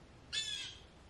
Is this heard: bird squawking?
yes